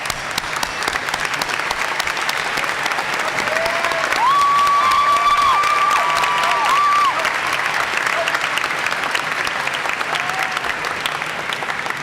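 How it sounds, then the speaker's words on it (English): At a high school graduation ceremony, a large crowd claps in loud, continuous applause, with a brief whistle or cheer rising above it midway before the clapping carries on. "And a round of applause."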